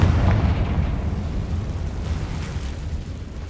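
A Confringo fire-blast spell explodes in Hogwarts Legacy with a deep, rumbling boom that hits hard at once and rolls away slowly, fairly loud and alone.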